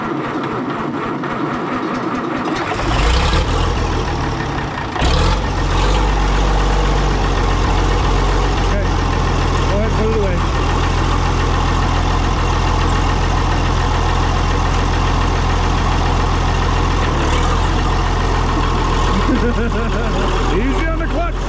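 A Minneapolis-Moline G950 tractor engine revs loudly and steadily with a deep, throaty muffler rumble, the roar swelling after a few seconds and holding strong throughout.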